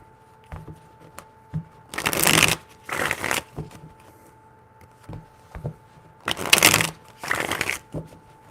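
Tarot cards are shuffled by hand in two bursts of quick, crisp riffling and flicking, close and clear, with soft taps and handling noises between them.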